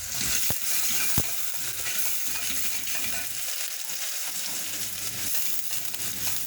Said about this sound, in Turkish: Biraz kavurmanız gerekiyor tabii ki salça vesaire Soğanın kavrulması gerekiyor.